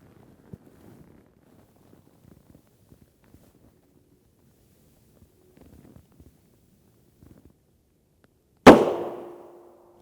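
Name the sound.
gunshots hitting Tacticon Level IIIA UHMWPE armor plate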